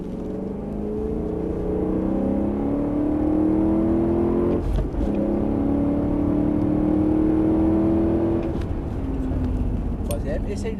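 A BMW M3 on a circuit during a driving course accelerates through the gears with a steady rising engine tone, a short gearshift dip midway, while an instructor talks over it.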